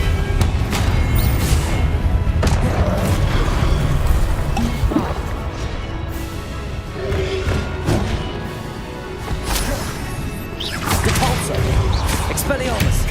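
Spell-casting effects from Hogwarts Legacy: repeated booming blasts, crashes and whooshing impacts in a dense, loud game soundscape, with a player shouting spell names throughout.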